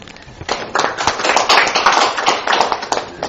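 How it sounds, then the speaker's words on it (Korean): A forum audience claps in steady bursts at an indoor lecture event on the March First movement and the Korean provisional government. The clapping sounds dense and fairly close, with no voices over it. "박수 한번 주십시오"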